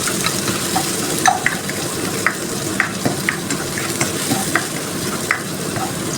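Onion and garlic sautéing in hot oil in a pan for baked macaroni: a steady close sizzle throughout, broken by regular scraping clicks of a spatula stirring the pieces.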